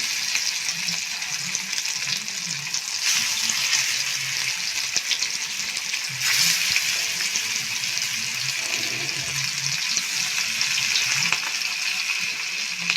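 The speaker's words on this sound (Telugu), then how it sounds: "ఇప్పుడు మనం దీన్ని మంచిగా ఫ్రై చేసేసుకుందాం" Marinated pomfret fish pieces fry in hot oil, giving a steady, close, bright sizzle that holds unbroken throughout with a faint low rumble underneath.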